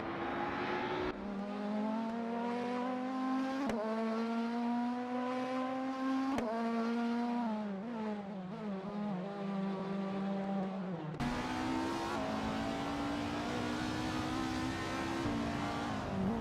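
A 1998 Alfa Romeo 156 GTA race car engine in a racing video game drones loud and close, its pitch climbing through gears with sharp drops at each shift, sustained throughout.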